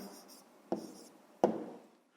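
Pen scratching on paper while writing down a maths answer, in a few short strokes with sharp onsets, close and fairly quiet.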